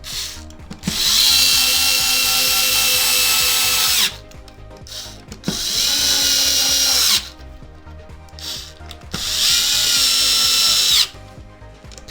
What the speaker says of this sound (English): we're gonna put all these long screws in.